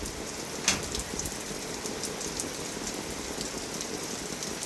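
Steady rain in a village patters on a surface, a continuous wash of drops with one brief sharper splash near the start, no voices.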